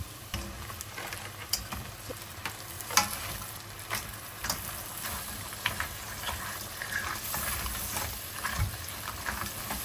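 Crabs fry with onions in a pan, giving a moderate steady sizzle with bursts of scraping and stirring, some light bubbling and clicks scattered over the frying.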